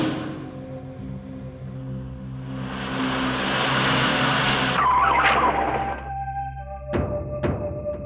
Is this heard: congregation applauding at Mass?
no